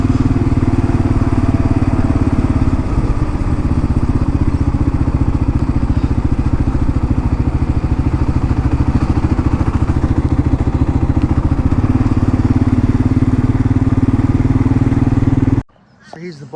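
A motorcycle loaded with gear for an around-Australia trip runs close by in a small country town, its engine a loud, steady drone that cuts out abruptly just before the end.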